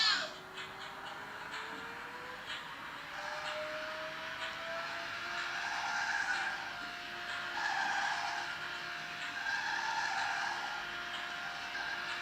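Tire skids and engine drone from a racing video game play steadily for several seconds, a continuous squealing whine with rising tones, moderately loud and unbroken, with no talk over it.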